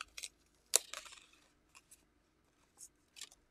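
A die-cutting machine cuts out stamped paper cardmaking pieces for a holiday gift card set, heard as one sharp crunch followed by a few faint, scattered clicks and rustles in a quiet room.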